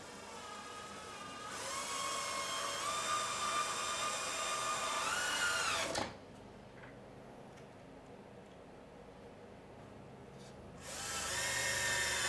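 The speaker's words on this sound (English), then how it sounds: "I'm going to go ahead and put our screws in." Cordless drill driving screws into cedar boards of a garden potting bench, two sustained whining runs of several seconds each, loud and close, separated by a quiet pause.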